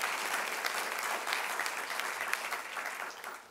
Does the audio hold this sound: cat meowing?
no